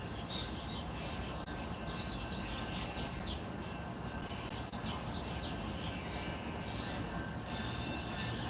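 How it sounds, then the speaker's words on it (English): A train rolls past outdoors, a broad, continuous rumble and clatter held at a fairly even level throughout, with some distant higher tones over it and no clear talk. "Comes the train."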